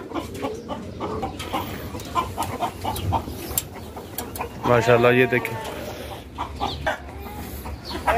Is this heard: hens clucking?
yes